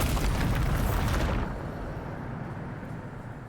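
A Bombarda spell goes off in Hogwarts Legacy, a loud booming explosion that fills the first second and a half, then fades into a lingering low rumble.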